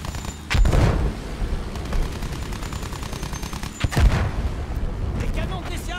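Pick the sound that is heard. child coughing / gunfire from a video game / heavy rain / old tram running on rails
gunfire from a video game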